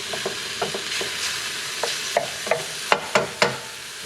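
Fried rice ingredients sizzle steadily in a hot pan while a utensil stirs and scrapes, with several sharp clacks growing louder near the end; no talking.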